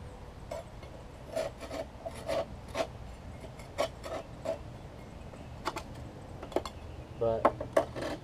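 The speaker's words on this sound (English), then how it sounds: "Trying to get all the surface scrapes off." A scraper takes rust and surface scale off the mower deck of a Troy Bilt Mustang zero-turn mower. Short, sharp, close rasping scrapes come in irregular bursts, and no one speaks.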